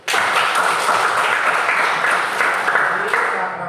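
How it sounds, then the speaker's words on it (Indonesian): Classroom applause during a religious education lesson, a sustained burst of many hands clapping together at steady loudness for several seconds before tapering slightly at the end. "Tepuk tangan dulu."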